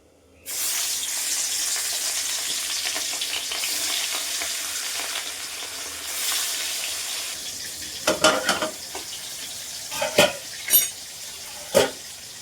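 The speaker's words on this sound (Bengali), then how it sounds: "এইবার তেলের মধ্যে মাছগুলো ছেড়ে দেবো" Pieces of fish slide into hot oil alongside potatoes and set off a loud, steady sizzle that continues throughout, with several sharper clatters and spatters toward the end as the pan is handled.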